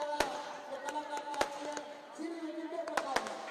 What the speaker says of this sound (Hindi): आप तस्वीरें देख सकते हैं कि किस तरीके से पटाखे जो है वो जलाए जा रहे हैं।